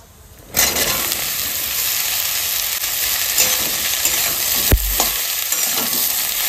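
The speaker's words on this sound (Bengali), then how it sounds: "আজকে কালো জিরে ফোড়ন দিয়েই খাবো ঝিঙে ভাজা" Ridge gourd fries in hot oil with a black cumin tempering, a loud, steady sizzle starting abruptly and continuing with occasional stirring scrapes and a sharp clack near the end.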